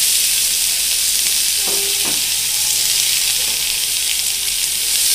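Papaya pieces sizzling loudly in hot oil with bay leaf, radhuni and ginger, a dense continuous frying hiss with a few soft spatula scrapes as the pan is stirred, close up.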